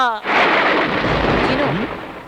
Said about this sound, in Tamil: வெளியில நல்லா மழை பெய்யுது